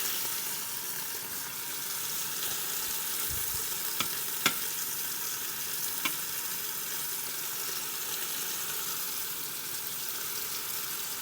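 Short ribs searing in a hot pan give a steady, even sizzle throughout, with a few faint clicks and knocks from the pan partway through; no one talks.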